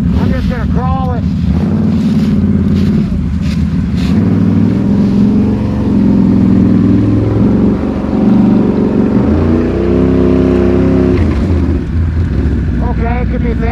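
A Can-Am Outlander ATV crawls slowly through thick off-road terrain, its engine a steady low drone mixed with wind buffeting and occasional voices, loud and close throughout.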